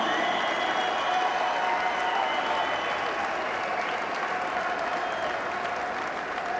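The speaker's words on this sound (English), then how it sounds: "a huge round of applause for the very brave and gallant Ross the Boss Minter" Sustained, steady applause mixed with crowd noise from a boxing audience after a welterweight title fight result is announced, filling the whole stretch at an even, dense level with no break.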